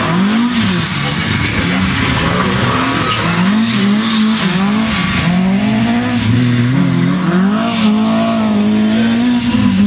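A Ford Escort rally car engine at the Race Retro 2011 show revs and changes pitch repeatedly, loud and close, with a voice talking over it.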